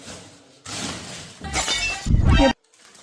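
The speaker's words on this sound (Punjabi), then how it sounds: "ਇਹ ਜੇ ਫੋਨ ਟੁੱਟ ਗਿਆ" A sharp crash and shattering of a device hitting the floor, a couple of quick clattering impacts ending abruptly in near silence.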